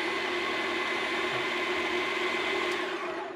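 A Yonanas frozen treat maker motor whirs at a steady, loud drone with a constant tonal hum, running continuously empty without any load.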